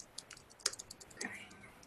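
Quick, light clicks of fingers typing on a computer keyboard, a short irregular burst of keystrokes close by and fairly quiet, with a brief faint voice-like tone partway through.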